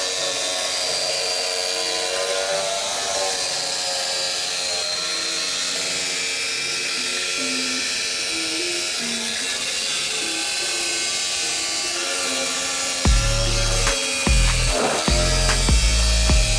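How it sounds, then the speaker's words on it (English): A jigsaw cutting through board for a speaker box runs as a loud, continuous buzzing whine close by, then gives a few rough jolts and rattles near the end of the cut. "Make sure when you're cutting it too, you're pushing down on the jigsaw"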